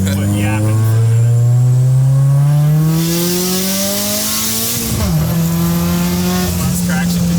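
A turbocharged Subaru BRZ accelerates hard through the gears on a tuning pull, its engine note climbing loud and close, dropping briefly at a shift near the five-second mark before rising again, with voices talking over it.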